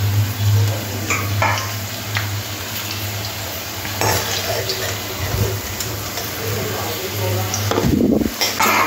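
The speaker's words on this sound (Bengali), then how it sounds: "এবারে আলুগুলো ভেজে নেব।" Potatoes fry in hot oil in a pan for a mixed-vegetable shukto, a steady sizzle with occasional stirring scrapes and clinks of utensils, over a constant low hum, with someone talking at times.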